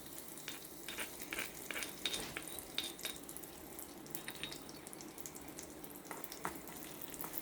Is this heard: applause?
no